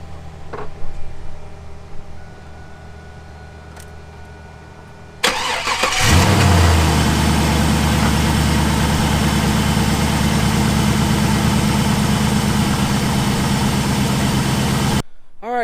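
A 2002 Pontiac Firebird with an LS1 engine and a new A/C drive belt: quiet background hum, a brief starter crank, then the engine catches with a loud rev and settles into a steady, rumbling idle before cutting off.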